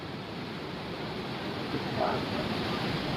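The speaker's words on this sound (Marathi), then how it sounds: "किती फास्ट पाणी चाललं खाली" The fast-flowing Ganges river rushes past at Gangotri, a steady broadband roar of turbulent water heard close by without pause.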